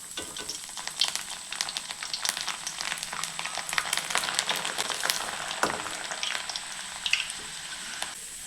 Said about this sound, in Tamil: பூண்டு நல்லா குட்டி குட்டியாக கட் பண்ணிவிட்டு இந்த எண்ணெயில் நல்லா பொன்னிறமாக ஆகிற அளவுக்கு நல்லா வறுத்து